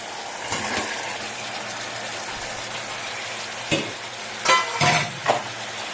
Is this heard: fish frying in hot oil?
yes